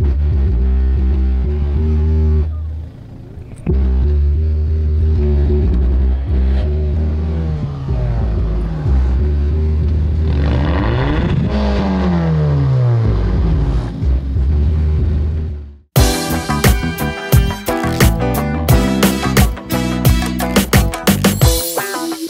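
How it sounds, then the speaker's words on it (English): A car with straight-piped exhaust idles and revs with a loud, deep rumble that rises and falls, close by, then cuts to loud booming music from two 12-inch Kicker subwoofers. "Zach, I did straight piped exhaust, and I put two 12-inch kicker subwoofers in the back of my car."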